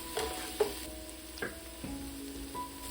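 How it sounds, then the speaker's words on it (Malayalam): Crushed shallots and green chilli sautéing in hot oil for a Kerala shrimp roast, a soft continuous sizzle with a few brief stirring scrapes and clicks, fairly faint and close. "എണ്ണയിലേക്ക് ചതച്ച് വെച്ചിരിക്കുന്ന ഉള്ളിയും പച്ചമുളകും കൂടി ചേർത്ത് നന്നായിട്ട് ഇളക്കി 2 മിനിറ്റ് വഴറ്റിയെടുക്കുക."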